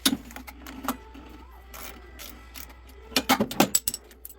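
Small metal nuts being worked off the carburetor cover of a Toro Power Clear 721 E snow blower, giving scattered close clicks and ratcheting taps in short bursts, busiest near the end, over a quiet background.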